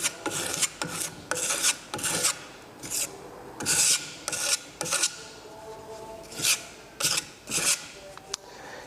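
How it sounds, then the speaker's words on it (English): Hand sanding across a scalloped wood surface, with repeated rasping strokes in short bursts, steady and close, pausing briefly between passes. "I don't have so much to sand"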